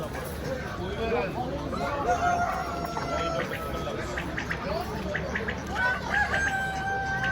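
A rooster crows loudly nearby, with hens clucking around it while people talk over the birds at a poultry market.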